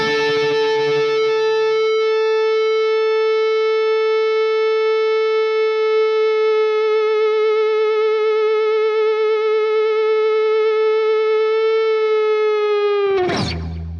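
Fernandes FR-75S electric guitar with its sustainer in harmonics mode, one loud note held for over ten seconds as a steady feedback-like tone with overtones blooming, then cut off by a short noisy thump.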